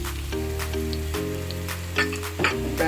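Onions hitting a hot pan in the early steps of a curry cabbage and saltfish dish, giving a steady, loud sizzle and frying hiss with a few crackles and stirring clicks over a constant low kitchen hum.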